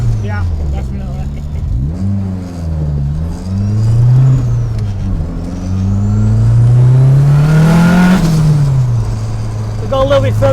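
A Vauxhall Viva fitted with a swapped VXR engine revs close by, its pitch rising and falling through several blips before climbing to a sustained high-rev peak and dropping back, with people talking over it.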